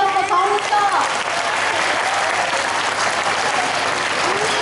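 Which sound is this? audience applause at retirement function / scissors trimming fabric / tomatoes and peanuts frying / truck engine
audience applause at retirement function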